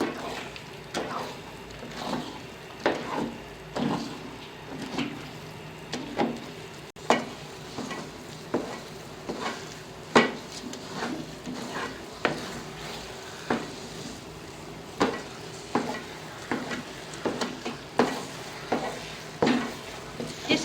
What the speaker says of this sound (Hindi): आपने मुसलसल तक चम्मच हिलानी है ताकि ये चिपके नहीं।